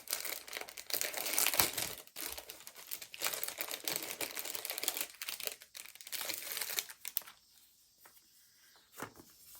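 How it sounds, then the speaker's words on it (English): Shiny plastic packaging crinkling and crumpling close by as a product is unwrapped from a quilt subscription box, loud busy rustling for several seconds, then tapering to sparse faint crackles. "let me take it out of this shiny plastic"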